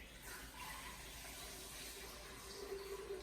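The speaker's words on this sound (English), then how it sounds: "Put in 2 cups of water." Two cups of water poured into a Vitamix blender with almond butter for almond milk, a continuous splashing, filling rush at low volume, steady for a few seconds with no talk.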